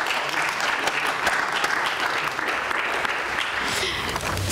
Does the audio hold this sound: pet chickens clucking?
no